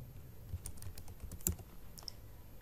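Fingers typing on a computer keyboard while building an Excel salary slip, a quiet run of irregular clicky keystrokes close to the mic, alone with no talking.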